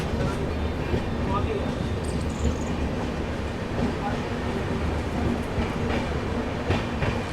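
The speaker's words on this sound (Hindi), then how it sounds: "गांधीनगर जयपुर पर अभी अपनी शताब्दी एक्सप्रेस यहाँ पे पहुँच रही है।" A Shatabdi Express train pulls into Gandhinagar Jaipur station. A steady, heavy rumble of wheels and rolling stock runs throughout, with rhythmic clatter and faint voices in the background.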